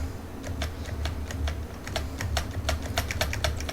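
Steady typing on a computer keyboard during an online game: a quick, uneven run of crisp key clicks, close and fairly loud, with a low hum underneath and no talking.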